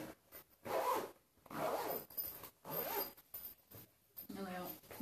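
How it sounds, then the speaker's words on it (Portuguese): Zipper on a men's fabric toiletry bag being pulled open and shut in several separate close, crisp rasping strokes, with someone talking between them. "Dois zíper, tá, meninas?"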